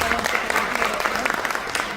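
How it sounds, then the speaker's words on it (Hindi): A meeting audience breaks into applause, dense rapid clapping from many hands that stays steady for two seconds, fairly loud, with some voices murmuring beneath. "तो उनके लिए एक बार जोरदार तालियां होनी चाहिए।"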